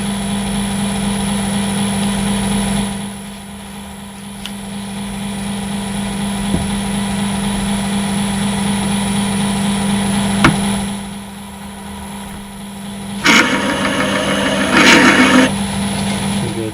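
A steady mechanical drone runs throughout, with a brief louder burst of grinding near the end, like a power drill with a bigger bit working through material.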